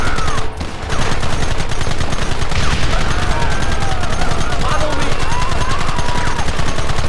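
Heavy gunfire in the Red Dead Redemption video game, a dense nonstop rattle of rapid shots and machine-gun bursts at full volume, with shouting voices mixed in.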